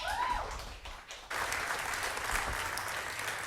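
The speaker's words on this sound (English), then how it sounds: "Round of applause, please." After a brief whistling tone, a round of applause from a small audience at a college talk swells in and continues steadily, moderately loud, with no speech over it.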